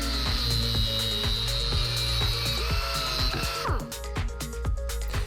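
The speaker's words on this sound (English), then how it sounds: "take your carbon fiber tube and cut it to the proper length" Cutting a carbon fiber tube to length for an airsoft VSR-10 outer barrel, a steady loud grinding, whirring cut that runs continuously, then shifts to a rougher rattling texture near the end.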